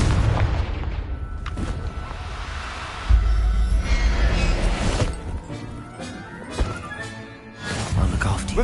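A Confringo fire spell explodes in Hogwarts Legacy with heavy booming blasts and thuds, loud over a dense rumbling game soundscape, while a voice speaks at times.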